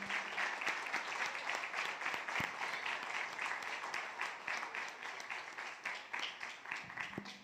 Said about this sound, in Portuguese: tecemos aplausos ao Senhor